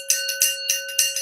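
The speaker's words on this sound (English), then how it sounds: "I'm going to ring the bells during this." Small bells rung repeatedly during an auction of antique bee creations, a bright close jingling in quick rhythmic bursts over a sustained ringing tone.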